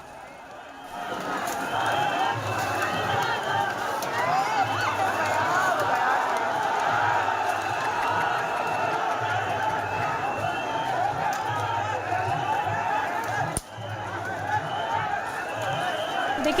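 Dense, agitated roar of an unruly crowd at a Muharram procession during a police baton charge, continuous shouting and running feet, loud and close throughout.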